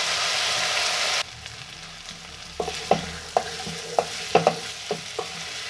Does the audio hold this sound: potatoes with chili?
yes